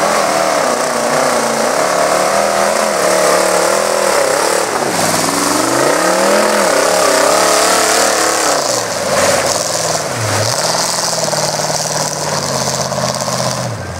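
Loud 4x4 mud truck, reportedly fitted with a Durango engine, rumbling through cherry bomb mufflers at a mud bog event, its raspy exhaust rising and falling steadily with throttle blips and revs throughout.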